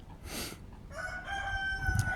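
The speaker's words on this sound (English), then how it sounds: "other than loud roosters" A rooster crows loudly nearby on an Arizona homestead. One long, strained cock-a-doodle-doo rises, holds and trails off, with a brief earlier call and a faint cluck before it.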